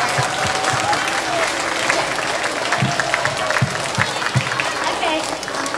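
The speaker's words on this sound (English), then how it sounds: "So if you guys could give a round of applause for Rosie" An audience at a school flag raising applauds a cafeteria worker, steady dense clapping with some cheers and voices mixed in throughout.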